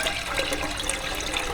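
Milk pours into a pot for homemade paneer, a steady close splashing gurgle with no pauses or voices.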